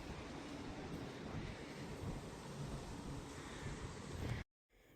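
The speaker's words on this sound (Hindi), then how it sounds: "तो यहाँ पे देखो कैसी हवा चल रही है" Strong wind blows steadily outdoors in New Zealand after rain, a loud broadband roar buffeting the microphone for several seconds before cutting off abruptly.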